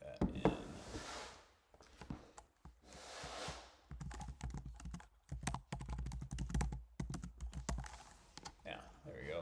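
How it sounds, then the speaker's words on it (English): Keys clicking on a computer keyboard in a rapid, irregular run of soft taps, with a person talking over much of it. "And I can type that in."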